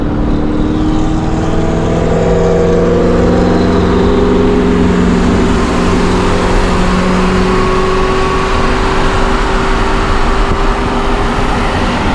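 A 4-cylinder car engine runs loudly and steadily nearby, a constant rumbling drone with a faint rising tonal whine early on.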